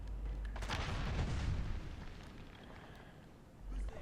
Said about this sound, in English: I'm just gonna shoot this one.